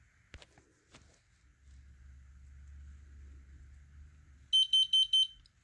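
A smoke alarm from a collection under test gives four loud, evenly spaced shrill beeps near the end, after a couple of faint clicks and a low background rumble.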